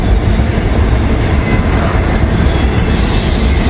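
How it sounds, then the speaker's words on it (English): A loud freight train of articulated auto rack cars rolls past at close range with a steady heavy rumble, rattling and faint wheel squeal. "There goes an articulator auto rack."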